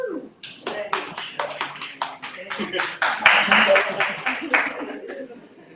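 Guests at a Los Angeles reception applaud the consulate staff, irregular clapping from a modest group that swells and then thins out, with some voices and laughter mixed in.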